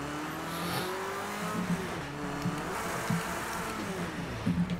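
A Ford Escort hums around Le Mans in a racing video game, its engine droning steadily with a rising and falling pitch as it changes speed, plus faint scuffs and clicks, no talking.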